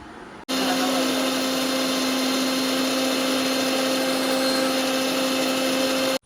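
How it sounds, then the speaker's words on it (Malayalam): Aloe vera pulp whirring in a mixer grinder jar, starting abruptly and running as a loud steady motor whine with a constant pitch for several seconds before cutting off sharply. "ഇത് മിക്സിയിൽ അടിച്ച് നല്ല ജ്യൂസ് പോലെ ആക്കും"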